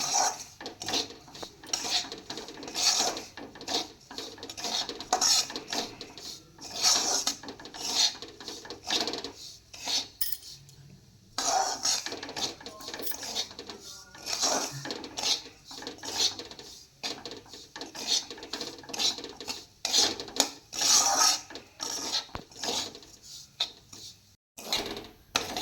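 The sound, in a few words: stirring and roasting semolina in ghee in a pan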